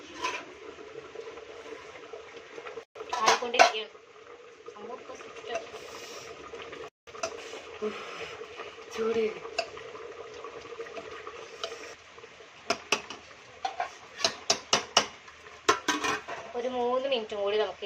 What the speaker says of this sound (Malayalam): ഒന്ന് ഇളക്കി കൊടുക്കണം നമ്മൾ ഇളക്കാൻ മറക്കുന്നതിനനുസരിച്ച് കരിയാൻ സാധ്യത കൂടുതലാണ് സോ നമുക്ക് ഇളക്കാം